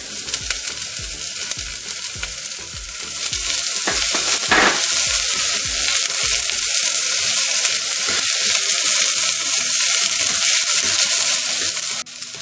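Peas and carrots sizzle and fry in a pan while being stirred, a loud, steady crackling hiss with scraping stir strokes running throughout, no talk.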